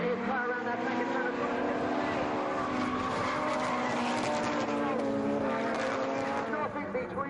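Drift car at a European drifting series event in Sturup, Sweden, flung sideways around a turn, its engine roaring and tires squealing continuously at a moderate distance while a commentator talks over it.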